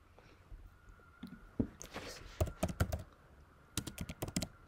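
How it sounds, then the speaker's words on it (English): Keys tapped on a computer keyboard while entering commands in MATLAB, a few isolated presses followed by short quick bursts of close, crisp clicks over a quiet room. "you can type help followed by the function name into the command window."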